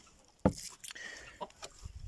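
Hens near the coop in the evening give a few short clucks, one sharper call near the start followed by softer scattered clucks, close and moderately loud against a quiet background.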